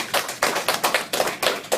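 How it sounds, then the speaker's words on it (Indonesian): A small group claps in short uneven bursts, several quick hand claps in a row at a training session, close and fairly loud with no talk over it. "Tepuk tangan dulu,"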